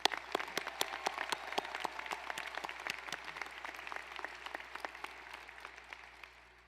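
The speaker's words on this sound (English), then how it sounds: "Please give them a big round of applause." A graduation commencement audience claps for the graduates' friends and family in steady, dense applause that sounds somewhat distant and quiet, gradually thinning toward the end, with no talking.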